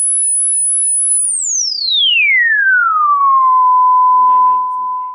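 A repaired JBL 4344 speaker driver plays a loud, steady high test tone that sweeps smoothly downward into a sustained lower tone, with a brief burst of speech near the end.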